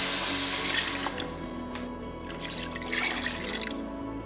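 Water pours steadily into a pot, a continuous rushing splash with a slight bubbling, close and moderately loud.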